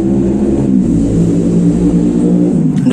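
A loud, close engine drones steadily with a rough, throbbing mid-low tone, slightly changing pitch near the start and end.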